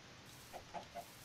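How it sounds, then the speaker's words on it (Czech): Three short, soft clucks from a chicken in the Minecraft video game, evenly spaced over a steady background hiss with no talking. "Je ta slepice."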